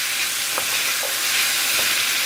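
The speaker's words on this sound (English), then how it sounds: "And then we're just going to stir fry everything and let it cook." Chicken and vegetables sizzle and hiss loudly in a hot pan as they are stir-fried, a steady frying crackle with a few soft scraping stirs and no voices.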